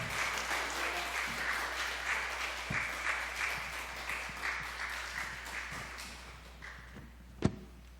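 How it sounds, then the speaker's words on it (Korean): Church congregation applauding to welcome the elder pastor at a Sunday worship service, steady broadband clapping sustained throughout, with a sharp knock or door-like bang near the end. "오실 때 우리 큰 박수로 환영하도록 하겠습니다."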